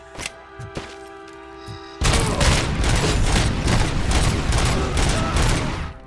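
Gunfire in the PC game RoboCop: Rogue City: after about two seconds of quieter game sounds, loud, dense automatic shots erupt and keep going in rapid, overlapping bursts.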